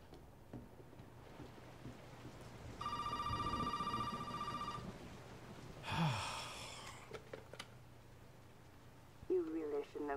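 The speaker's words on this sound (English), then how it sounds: "And the phone's ringing." An old landline telephone rings inside a house in Resident Evil 7: a single electronic ring about two seconds long, clear and moderately close, followed by a breathy voice and scattered movement sounds.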